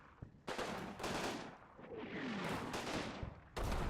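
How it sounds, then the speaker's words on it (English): Bursts of small-arms and machine-gun fire from the Combat Mission wargame, set on the Seine, crackle in several loud, close volleys separated by brief lulls, with no talk over them. "he started firing already"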